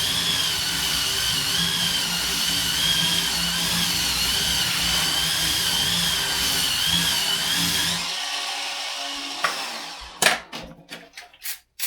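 A rechargeable electric spin scrubber whirs steadily against tiles for about eight seconds with a motor hum and brushing hiss, then stops, followed by a few sharp knocks and handling clatter.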